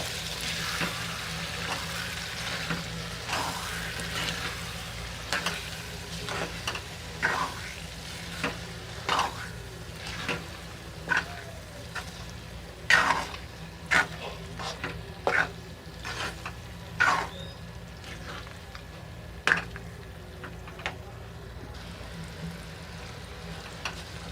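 Eggplant bharta mixture with chopped eggplant sizzles steadily in a pan while a spoon scrapes and stirs it in repeated sharp strokes, close and clear over the continuous frying hiss.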